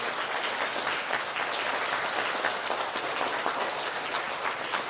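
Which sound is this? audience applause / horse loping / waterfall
audience applause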